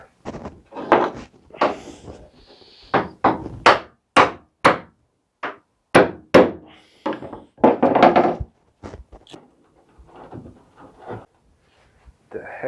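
Sharp hammer blows drive through-bolts out of a CLC Passagemaker boat build, about a dozen loud, close knocks in irregular bursts, some quick doubles, with brief pauses between.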